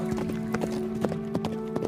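Horse hooves clip-clop in a steady walking rhythm, a string of moderately close, sharp knocks over a droning tonal background.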